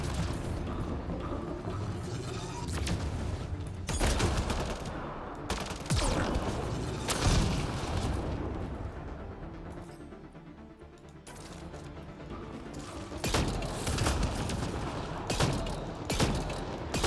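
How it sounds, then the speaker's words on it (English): Turret fire in Mass Effect: Andromeda, heavy bursts of gunfire and booming impacts repeating across the stretch over a dense, busy game soundscape, with no talking. "Oh, that's a turret."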